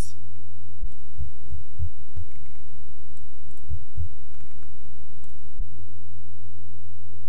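A computer mouse clicks in quick, irregular bursts near the microphone, sharp little taps scattered over a steady low hum.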